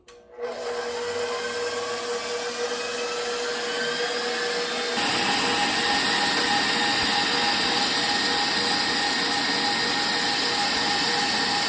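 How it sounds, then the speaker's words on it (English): An electric mixer whips dairy-free coconut milk cream with a loud, steady motor whine that runs continuously, growing slightly fuller partway through. "let's go ahead and start whipping"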